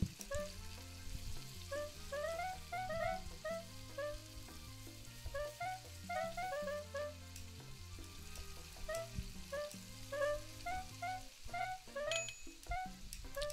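Steaks sizzling on a grill in the cooking game PlateUp!, a steady frying hiss under light, bright clinks and chimes of kitchen game effects, with no talking.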